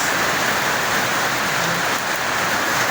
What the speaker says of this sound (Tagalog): Ay, biglang umulan.